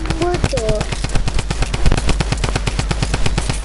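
Rapid automatic gunfire in a video game, a dense, loud burst of evenly spaced shots rattling without pause for several seconds, with short tonal game effects at the start and a voice speaking over it.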